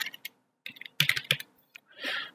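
Java code being typed on a computer keyboard: sparse, close clicks that cluster into a fast flurry partway through, then a softer rustling sweep at the end, with no speech.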